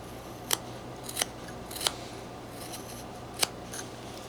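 Knife carving wood while whittling a wooden deer figure: a few sharp, isolated scraping cuts spaced apart over a quiet hissy background, close up.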